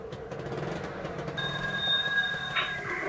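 A Leipzig tram runs on its rails with a steady rolling rumble, then a high, thin wheel squeal rises partway through and holds to the end, heard from on board.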